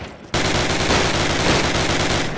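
Sustained, loud automatic machine-gun fire in a Call of Duty 1 search-and-destroy match, a rapid unbroken stream of shots starting abruptly after a brief quiet moment and continuing to the end.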